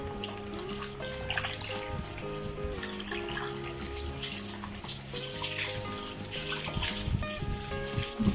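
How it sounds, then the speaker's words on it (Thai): Running tap water rinses shoes that were washed with bar soap and detergent, a steady quiet splash and trickle with no talking. "ทีนี้ก็ล้างน้ำ ล้างให้สะอาดเนาะ"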